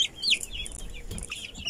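A Silkie hen with her chicks gives soft clucks close by, mixed with a few high thin chick peeps, brief and fairly quiet.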